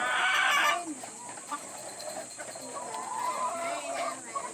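Chickens being raised for meat cluck and murmur while feeding, soft scattered clucks under a steady background hiss, with a louder burst of noise at the start and people talking.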